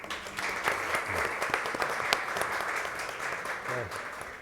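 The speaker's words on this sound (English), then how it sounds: "A round of applause" An audience at a conference on gender inequality in agroindustry applauds a speaker, a steady wash of many hands clapping at moderate volume, with some talk and shuffling mixed in near the end.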